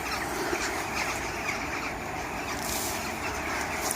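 A large flock of crows gathers to roost at dusk on a freezing winter night near Nottingham, filling the air with a steady, dense wash of distant cawing and chatter with no talking.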